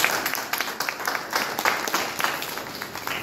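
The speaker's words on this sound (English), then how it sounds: "Please give her a round of applause." A round of applause from an audience at an Atlanta city council district meeting on Westside redevelopment, steady dense clapping heard from within the room, lasting a few seconds without talk.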